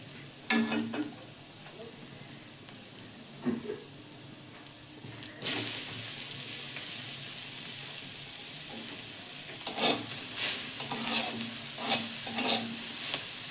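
Kolai greens hit a pan of fried onion and begin to sizzle over low gas, with a sharp rush of frying partway through and then scattered stirring scrapes over steady crackle, close and clear.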